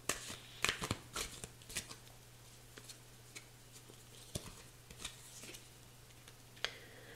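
Tarot cards being shuffled to draw another card, a faint, quiet riffling with scattered soft flicks and taps, heard alone without talk.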